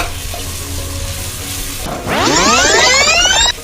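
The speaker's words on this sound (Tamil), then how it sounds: "இஞ்சி பூண்டு பேஸ்ட்டு சேர்த்துக்கலாம் நல்லா இஞ்சி பூண்டோட ஃப்ளேவர் வந்து நல்லா போகிற வரையும் நம்ம ஃப்ரை பண்ணி" Ginger garlic paste frying in a pan for mutton biryani, starting as a low background hum and then bursting into a loud, close, crackling sizzle about halfway through that holds steadily before easing off.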